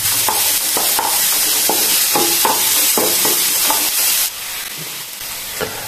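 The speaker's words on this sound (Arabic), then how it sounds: "واش حطينا كمية تاع الزيت، حوالي ربع ملعقة تاع الزيت، وراح نزيدوا عليها حبة بصل متوسطة، نقلوها جيدا." Onion frying in about a quarter spoon of oil in a pan, a steady close sizzle with repeated clinks and scrapes of stirring throughout, easing slightly toward the end.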